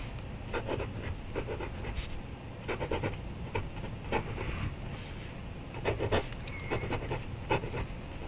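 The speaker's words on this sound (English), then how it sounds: "let's see some live writing" Fountain pen with a stub nib scratching across paper with Birmingham ink, close and soft, with irregular strokes and taps at an even pace.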